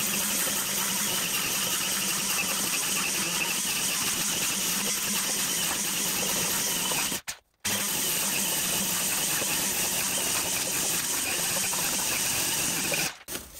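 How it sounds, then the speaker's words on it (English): Two-stroke line trimmer running nearly continuously at close range, a loud buzzing drone broken by one brief cut near the middle and another near the end. "Let's have a look at the difference using the line trimmer."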